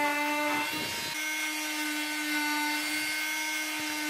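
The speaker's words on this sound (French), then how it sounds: "Je suis obligé de tout reprendre avec le multi-outil." An oscillating multi-tool cuts into a melamine kitchen worktop to fit a cooktop, giving a fairly quiet, steady high-pitched buzzing whine with a brief rougher grinding burst near the start.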